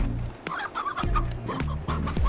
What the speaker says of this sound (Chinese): 这里有柴母鸡，这个带回去养